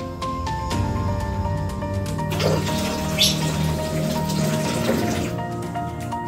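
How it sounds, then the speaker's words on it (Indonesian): Water rushes and splashes into a toilet bowl as it is flushed after eco-enzyme cleaner is poured in, a continuous loud pour lasting several seconds with a brief surge in the middle, no talk. "selanjutnya kita siram menggunakan air"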